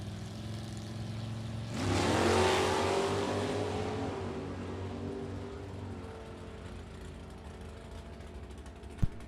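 A 1963 Plymouth Sport Fury and other vintage drag race cars launch at a Glory Days vintage drag race, a sudden loud engine roar surging up and then fading as the cars pull away into the distance.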